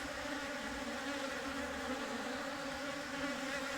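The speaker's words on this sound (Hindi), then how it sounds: "तो ये देखिए मधुमक्खी आपस में लड़ाई कर रही है, क्योंकि ये दो स्वाम थे" Honeybees from two merged swarms fighting inside a hive, a dense, steady, close buzzing drone with no let-up and no voices.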